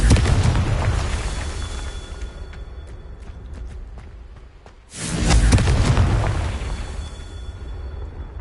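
In Hogwarts Legacy, a Confringo spell explosion roars in as a loud, rumbling boom. It fades to a quieter stretch with faint ticking, then bursts back into another heavy, sustained blast.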